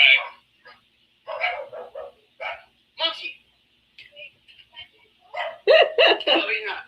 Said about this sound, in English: Oh, this dog is going to drive me nuts.